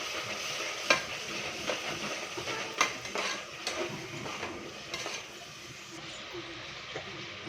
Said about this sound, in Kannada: ಮಸಾಲೆ ಎಲ್ಲ ಚೆನ್ನಾಗಿ ಫ್ರೈ ಆಗಲಿ